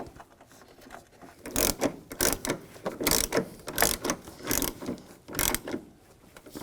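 Ratchet tightening the battery hold-down bolt on a 1999-2006 Chevrolet Silverado 1500, close rapid clicking in uneven bursts with short pauses between strokes.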